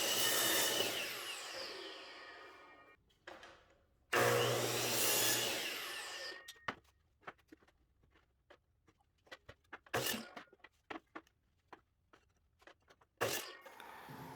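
Reclaimed fence wood being cut down for a decorative insert in mudroom built-ins, heard as two long loud bursts of power-saw noise followed by a scatter of sharp knocks and clatter from handling the boards.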